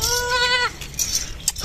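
A Beetle goat at a farm gives one clear bleat lasting under a second, followed by faint farmyard rustling and clinks.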